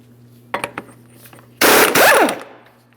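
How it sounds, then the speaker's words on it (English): A few sharp metallic clicks followed by a loud, harsh burst of a power wrench with a 32mm socket spinning off the front axle nut of a 2005-2010 Chrysler 300 5.7L, close and brief. "Use a 32mm socket to remove the axle nut."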